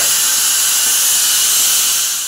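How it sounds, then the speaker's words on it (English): Steam escapes from a pressure cooker of beef curry after the gas is turned off, a loud, steady, close hiss that runs alone for the whole stretch. "let that steam just come out"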